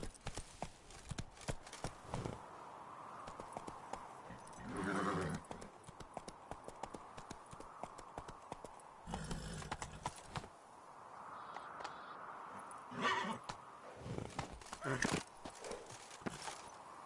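Horse hooves clip-clop at a gallop in The Witcher 3 (Blood and Wine), with a couple of whinnies breaking through around the middle and late in the run, a rider's voice speaking over the steady hoofbeats.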